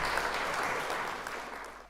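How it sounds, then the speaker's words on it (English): A round of applause, a soft, even rush of clapping heard at a distance, gradually tapering across its short span. "The round of applause"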